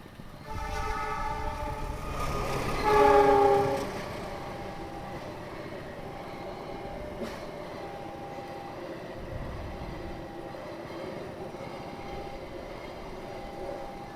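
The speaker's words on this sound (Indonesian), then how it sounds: "Wih, dua kayaknya ini kereta" Two trains pass a railway crossing, with a horn blast sounding early over a steady, continuous rumble of rolling railcars that carries on for the whole stretch, without voices.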